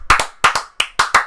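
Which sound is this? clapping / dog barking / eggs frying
clapping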